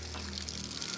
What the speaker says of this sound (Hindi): मोटर का पानी चेक करो प्रेशर